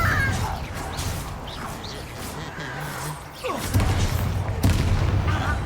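Fiery Confringo spell blasts in Hogwarts Legacy combat, with booming impacts and crashing bursts over a busy game soundscape, loudest near the end.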